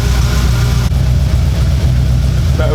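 An Audi car engine idles nearby with a low, uneven, lumpy rumble that stays steady and loud.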